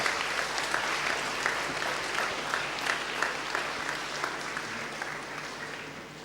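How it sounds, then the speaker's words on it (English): An audience applauds Chandu sir, newly named president of the Global Schools Foundation, at a school leadership lecture: a steady, dense wash of clapping from many hands that holds throughout and eases slightly toward the end. "So please give a big round of applause to Chandu sir."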